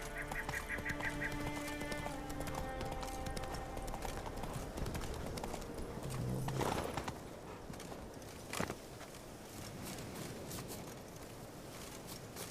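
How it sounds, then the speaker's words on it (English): Horse hooves clip-clop at a walking pace in the video game The Witcher 3, faint and fairly close, under game music and ambient sound. "Whoa there, Roach."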